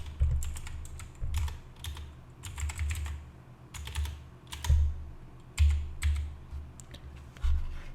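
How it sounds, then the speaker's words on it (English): Keys on a computer keyboard clatter in short, quick bursts separated by brief pauses, close and clear in a quiet room. "Now type downloads for me."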